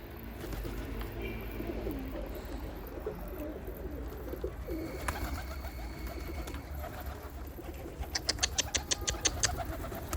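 Bango and Baska breed pigeons coo in a coop, their soft rolling calls layered over steady background noise. A rapid run of sharp clicks or flutters comes near the end.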